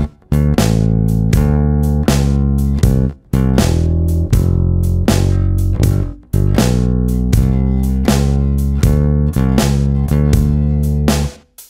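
A bass guitar plays a full 12-bar blues turnaround at 70 BPM, a steady stream of plucked notes grouped into phrases separated by short pauses, loud and close with no voices.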